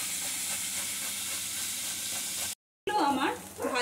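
Mourola fish frying in hot oil in a kadai, a steady dense sizzle that runs for a couple of seconds, breaks off briefly, then returns louder with bubbling.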